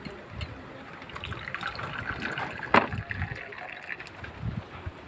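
Hot water is poured into a glass holding a spoonful of sugar for layered tea, a faint liquid trickle and splash with one sharp clink midway.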